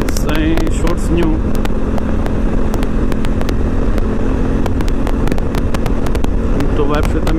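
Honda Africa Twin 2017 motorcycle cruising at motorway speed around 150 km/h, its engine a steady loud drone under heavy wind buffeting on the microphone, with the rider talking over it throughout.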